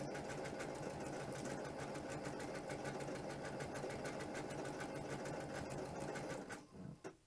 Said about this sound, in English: We're just going to let it sew until it's right to the edge.